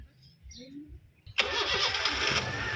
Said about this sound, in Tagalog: alright, engine start.